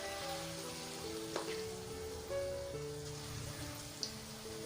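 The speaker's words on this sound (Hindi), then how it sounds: "थोड़ा सा बैटर लेंगे और ऑयल में डाल देंगे।" Semolina dahi vada batter frying in hot oil in a kadai makes a steady, dense sizzle and crackle throughout, with a few faint clinks and scattered pops.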